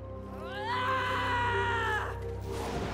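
A drawn-out scream from a character in the video game Darksiders 3, loud and wavering, rising sharply, then holding for over a second before breaking off, with fainter game sound around it.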